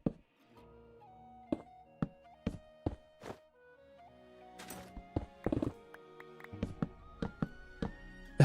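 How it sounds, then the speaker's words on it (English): A Minecraft camel in a hardcore survival world lets out sudden, horn-like sustained tonal notes, mixed with clopping footstep thuds and sharp clicks, close and fairly loud, with no talking. "that was that camel, dude. It sounded like a one of those goat horns in my ear"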